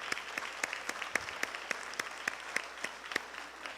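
Sparse clapping from a few people in a graduation audience at Foothills Regional High School, distinct separate claps in a loose rhythm over a quiet, faint room background.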